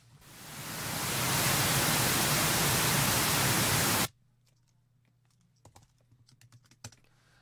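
Pink noise from a signal generator played through a loudspeaker for system tuning, a broad steady hiss fading up over a second, holding loud, then cutting off abruptly, followed by faint clicks and a low hum.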